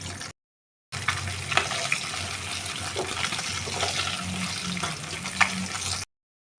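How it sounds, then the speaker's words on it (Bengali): Fish sizzle in oil in a pan, a steady crackling fry with brief stirring scrapes and a faint watery hiss, cut by short silent gaps at the start and end. "সাইডে মাছগুলো ভাজা হচ্ছে"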